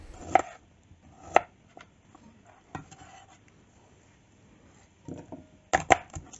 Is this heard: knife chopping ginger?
yes